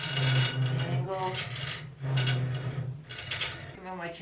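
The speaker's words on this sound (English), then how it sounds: "Come on my chainsaw file and do it this way then." A chainsaw file rasps across metal at a forge while shaping a latch body, giving repeated scraping strokes, several rhythmic passes with brief pauses, close and fairly loud.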